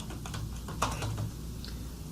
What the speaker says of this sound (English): So here at Amazon, I'm just going to type in March Madness again.